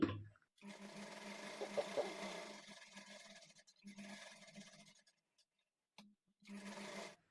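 A sewing machine stitches along the edge of blouse canvas in several quiet, steady runs of rapid stitching, separated by brief pauses.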